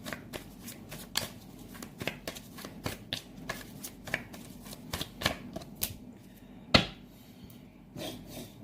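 Tarot cards are shuffled and drawn, with crisp riffling and flicking in irregular bursts, close up, plus one sharper slap as a card is placed down.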